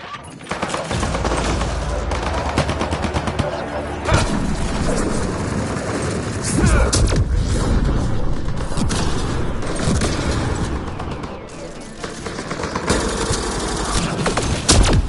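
Sustained turret gunfire rattles through a firefight in Mass Effect Andromeda, dense bursts of shots layered with booms and mechanical noise that stay loud and continuous for the whole stretch.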